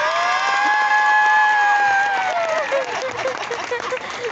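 An audience at a children's show in Torreón applauds and cheers, loud clapping mixed with shouts and whoops from kids, while a sustained musical tone plays over the top before the clapping thins slightly toward the end.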